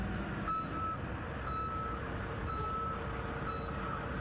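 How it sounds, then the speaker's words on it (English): A haul truck's reversing alarm beeps at a steady once-per-second rhythm on an asphalt paving site, faint and somewhat distant over a low engine rumble, with no talking. "be sure that all truck backup alarms work properly"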